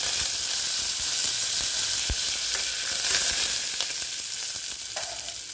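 Curry leaves crackle and sizzle in hot oil for Karnataka-style tomato bath, a constant close frying hiss with occasional sharper pops and stirring scrapes.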